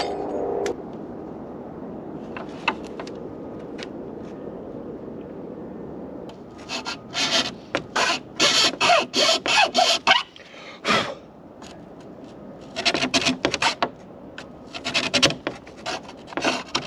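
Original metal latches from an abandoned GMC motorhome are filed by hand, first a quiet stretch and then bursts of rhythmic rasping strokes, close and harsh, in two clusters separated by a brief pause.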